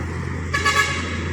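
An ALS intercity bus pulls away from its Palembang ticket office at night, giving one short, loud honk of its horn over a constant low engine idle.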